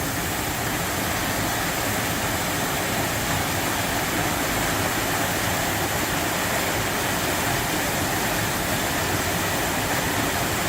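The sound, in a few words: forest waterfall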